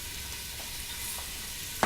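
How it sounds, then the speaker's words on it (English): Beef for a stew sears in a hot pot, a brief, steady, close hiss of frying with a sharper clatter right at the end. "we're going to sear the meat. You can hear it searing."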